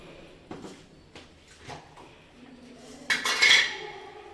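Grated coconut being spooned into a pot of tamarind kuzhambu with pumpkin, a few soft scraping knocks followed by a louder metallic clatter of the spoon against the pot near the end.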